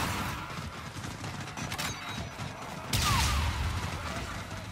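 Shredder gun firing in the Call of Duty Spaceland video game: a dense burst of rapid gunfire that swells loudly around the three-second mark over a steady layer of in-game sound.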